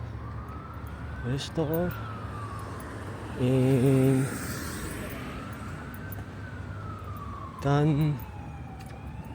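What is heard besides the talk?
emergency vehicle siren passing by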